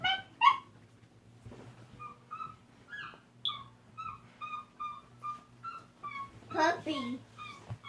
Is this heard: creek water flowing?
no